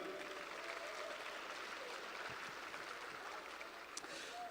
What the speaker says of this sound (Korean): 고생하신 당대표 및 최고위원 후보자 모두에게 격려의 박수를 부탁드립니다.